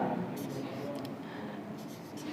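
Numbers being written on a classroom board during a maths lesson, faint scratchy strokes in short bursts, close and quiet, with a teacher's voice talking underneath.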